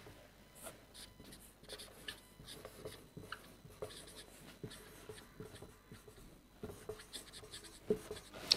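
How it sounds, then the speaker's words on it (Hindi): Chalk or marker writing words on a board in a grammar lesson, a series of quiet scratchy strokes in uneven bursts, faint and close, with no talking. "5 वर्ड्स लिखता हूँ, उसमें आप देखिएगा।"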